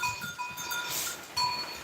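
Goats on a farm, a short stretch of bleating mixed with faint bell-like tones and rustling, fairly close and without talk.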